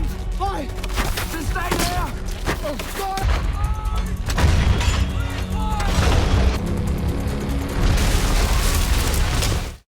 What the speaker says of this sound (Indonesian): meminta pasukan artileri untuk menembakkan ke lokasi pasukan Peleton 11